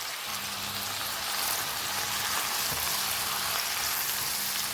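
Grated garlic, ginger and powdered spices fry in a pot with a dense, even sizzle like steady rain, continuous and moderately loud, with a faint low hum underneath.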